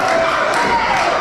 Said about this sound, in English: They have no rhythm whatsoever, as you can hear in their claps.